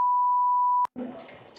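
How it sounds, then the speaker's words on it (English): A steady electronic tone beeps inside a haunted Victorian mansion, holding one pure pitch for nearly a second before it cuts off with a click, followed by faint room noise. "What's beeping?"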